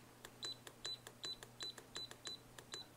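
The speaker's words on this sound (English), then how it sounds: "here you can turn the beep on or off" Short electronic beeps from an FNIRSI HS-02B micro soldering iron sound in a steady series of about eight evenly spaced pips, each with a faint click, over low background hum and with no talking.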